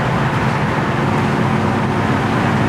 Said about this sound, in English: Drives nice and straight down the road.